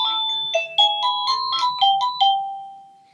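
An Avantek DT52 wireless doorbell plays a short electronic chime melody of about eight bright notes, close and clear, ending on a held tone that fades out.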